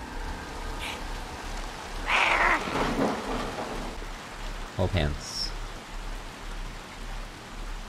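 Rain and thunder in the video game Little Nightmares 2, a steady hiss of rainfall with low rumbles underneath, while a person talks briefly over it.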